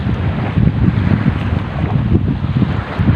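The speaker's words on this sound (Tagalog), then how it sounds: "malakas yung hangin at yung alon ay malalaki" Steady roar of strong wind buffeting the microphone over churning sea water and big waves, continuous and loud, with no voices.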